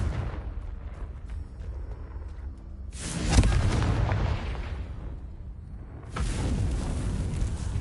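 In the Hogwarts Legacy video game, a Confringo fire spell goes off with a booming explosion over a rumbling low roar, followed a few seconds later by a second loud blast with crackling debris, close and heavy.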